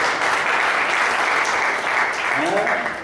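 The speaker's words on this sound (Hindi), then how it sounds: "आइए तालियां बजाएं शिव के लिए।" A group bursts into applause for a child named Shiv at a Bible lesson on Luke, a steady wash of clapping hands, loud and continuous, with a voice briefly rising near the end.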